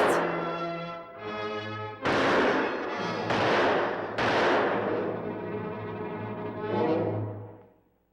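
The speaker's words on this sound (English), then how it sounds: "Jim starts shooting at the beast." Heavy, booming gunshots fired at a beast ring out as several loud, reverberant blasts in quick succession, each long-decaying and overlapping with a low droning tone before fading out.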